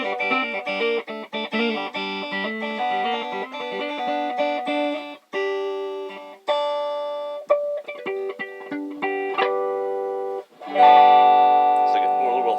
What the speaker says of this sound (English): it sounds like there's a trem on there